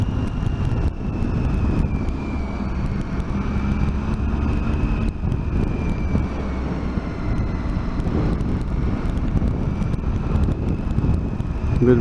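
Steady wind buffeting the microphone outdoors, a constant roaring rush with a faint engine-like drone underneath, no talking.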